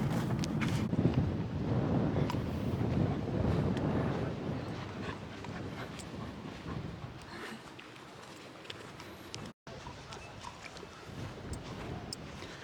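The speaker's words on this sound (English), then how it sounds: "The wind is very lovely." Outdoors, wind buffets the microphone in uneven rumbling gusts, strongest early then easing, with faint scattered background noise and no clear talking.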